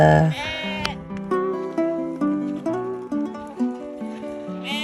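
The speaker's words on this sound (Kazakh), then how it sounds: "Қой-шағымыздың баласы Бақбол қозыларды осылай бірден сүйріп алып келді." Lambs bleat in a steady run of wavering, rising and falling cries while a boy drags them across a herding camp in the Ili Kazakh region, the calls close and fairly loud.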